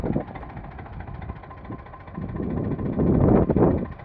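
An Eicher 485 tractor from 2015 idles nearby, its diesel engine chugging in a rough, uneven rumble that swells louder toward the end.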